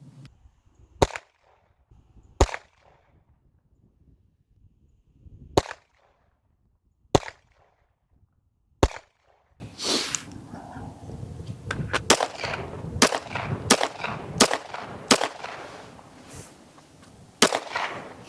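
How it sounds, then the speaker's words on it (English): Gunshots fired into a self-healing target, sharp single cracks spaced a second or two apart, then quicker overlapping shots among louder outdoor rustle and wind noise in the second half. "we've got a few rounds each into the white target"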